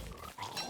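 A pig in a video game gives a short pair of grunting oinks, close and fairly soft.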